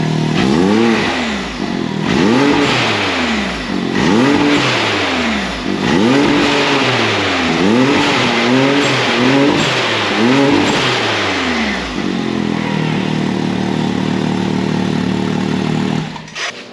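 A Can-Am Maverick X3 engine fitted with an RPM blow-off valve and charge tubes revs repeatedly in sharp rising and falling bursts, loud and close, then drops to a steady idle before cutting off.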